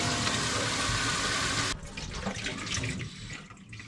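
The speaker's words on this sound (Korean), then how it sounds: "이렇게 뜨거운 물로 좀 해동을 하고" Hot tap water gushing loudly into a sink to thaw food, a steady rushing stream that abruptly drops to a softer, uneven splashing trickle.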